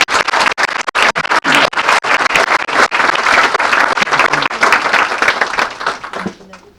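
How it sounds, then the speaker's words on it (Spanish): Audience applause at a Spanish-language book presentation, a dense burst of many hands clapping that holds steady for several seconds before thinning and fading out at the end. "Un caluroso aplauso, por favor."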